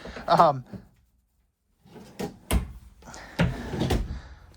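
Wooden drawers in the front kitchen of a 2026 Keystone Cougar 25FKD travel trailer slide and knock shut, a few sharp close thuds and clatters in quick succession while someone talks over them.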